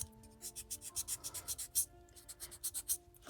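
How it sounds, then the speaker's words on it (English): Gel nail being buffed with a nail file: quick, steady back-and-forth rubbing strokes, close and fairly soft, about a dozen rhythmic passes with no talking. "I'm actually going to go ahead and I'm going to buff"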